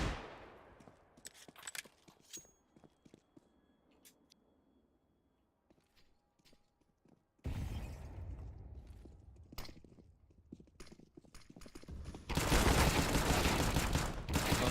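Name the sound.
AK gunfire in Counter-Strike video game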